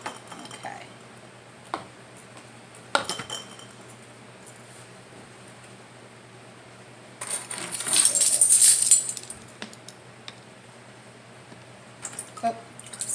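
Garlic cloves drop into glass canning jars being readied for pressure-canned tomatoes: a few sharp, isolated clinks spaced seconds apart, then a louder rattling burst of several cloves tumbling in together, close and clear in a quiet room.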